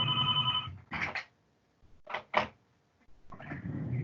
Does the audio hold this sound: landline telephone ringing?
yes